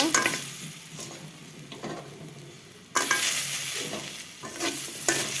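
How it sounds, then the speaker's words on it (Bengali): Lentil bori frying in leftover fish oil, a bright crackling sizzle with stirring scrapes; the hiss drops back, then surges loudly again midway as more goes into the pan, with no voices. "যে তেল আছে এর মধ্যে ডালের বড়ি ভেজে নিব"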